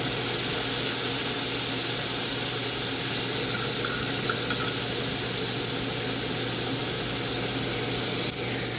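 Steak sizzles on a grill in a steady, loud hiss of searing fat and juices that holds unbroken for several seconds with no voices.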